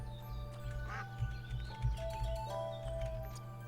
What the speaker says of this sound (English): There we have all the ducks.